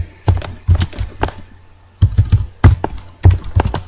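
Computer keyboard typing while entering C++ code in Dev C++, with three quick bursts of clicky, close keystrokes separated by short pauses, no voices.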